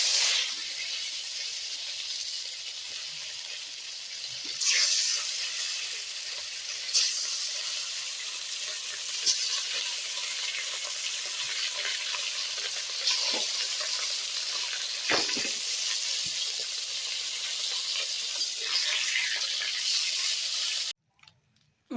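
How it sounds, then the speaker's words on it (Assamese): Fish pieces rubbed with salt and turmeric frying in a wok, a steady bright hiss and sizzle of hot oil with occasional pops and crackles, continuous and close, ending abruptly. "মাছখিনি ফ্ৰাই কৰা হৈ গৈছে"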